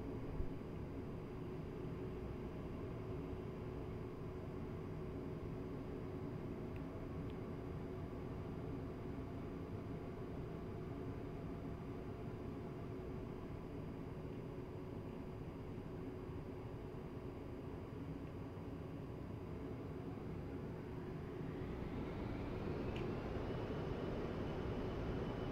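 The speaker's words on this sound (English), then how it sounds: "I'm just going to take off from this intersection rather than to cross over or back taxi down there" An A-10C jet in a flight sim sits at steady engine roar, then spools up toward takeoff, the whine climbing and growing louder near the end, with a constant low rumble and no voices.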